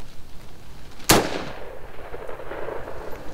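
A single sharp rifle shot fired at a possum 85 yards away at night, a loud crack followed by a short fading echo across open ground.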